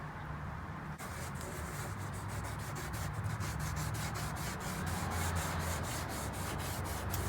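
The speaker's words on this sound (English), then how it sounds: "And you start sanding." Fine-grit sandpaper rubs back and forth across a sprayed plastic car headlight lens during restoration with a budget kit, a close, steady rhythmic scratching in quick even strokes with no talking.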